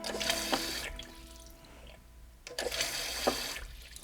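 Running toilet leaking water, heard as short bursts of trickling and splashing water in a bathroom, two clusters separated by a quieter gap, close and moderately loud with no speech.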